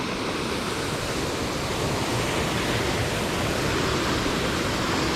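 Spring water at Rock Spring in Wekiva Falls pours out into the river as a loud, steady broadband rush with no breaks, close by.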